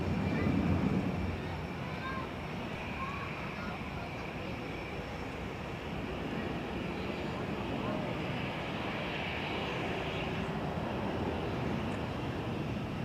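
An EasyJet airliner at Zurich Airport produces a broad, steady engine roar that holds for the full stretch at moderate distance, with some outdoor wind noise and no clear talking over it.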